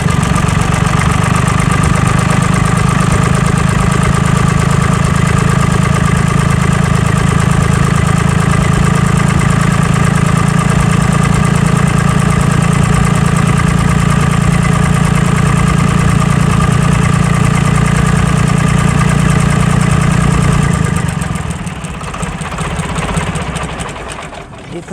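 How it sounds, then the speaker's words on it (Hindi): A three-cylinder tractor engine runs loud and close with a steady, throbbing drone, then the note drops and fades near the end as it winds down. "ये 3 सिलेंडर इंजन है, 3 सिलेंडर की वर्किंग है।"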